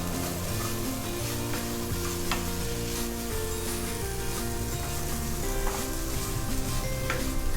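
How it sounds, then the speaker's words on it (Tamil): Soaked, ground chana dal sizzles steadily in a pan while it is fried and stirred for a gram dal sooji halwa, with a constant hiss and occasional scraping over faint background music and no talking. "ஊற வச்சு அரைச்ச கடலைப்பருப்பு வந்து பச்சை வாசனை போகிற வரைக்கும் நம்ம பொரிச்சுக்கலாம்"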